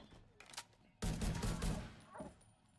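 Gunfire in the video game The Division 2, with quieter single shots first, then a loud sustained burst of rapid shots that tails off into a couple of softer reports.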